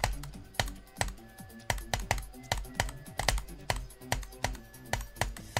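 Rapid clicks and key presses come from a player in an Insane Demon level of Geometry Dash, a fast, steady run of sharp taps heard up close.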